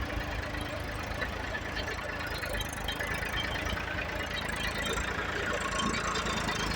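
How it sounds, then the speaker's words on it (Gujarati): A Massey 1035 tractor working a field, its engine chugging in a steady, knocking diesel rumble that holds at a constant level throughout, with a person talking over it. "બીજું ટ્રેક્ટર આપણું હાલ્યું આવે છે. આ મેસી છે 1035."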